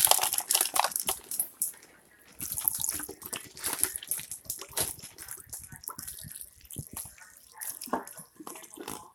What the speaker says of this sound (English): Now we're going to add another can of milk.